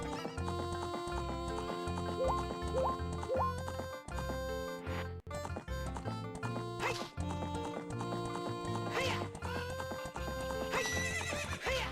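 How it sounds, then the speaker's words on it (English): A horse in Zelda: Ocarina of Time gallops and whinnies amid busy game music and effects, its hoofbeats and neighs mixed into a dense, continuous soundtrack. "And that is how you steal a horse."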